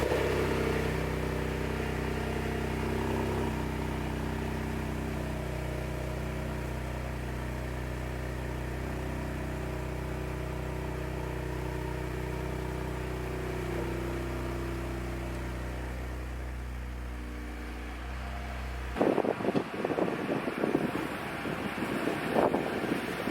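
A Ford Fusion Sport with MRT V2 exhaust runs steadily at idle after a warm start for a long stretch, a low constant hum, then wind noise buffets the microphone near the end.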